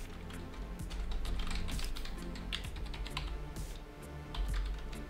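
Someone types a username and password on a computer keyboard, a quick, irregular run of soft key clicks with brief pauses, close and fairly quiet.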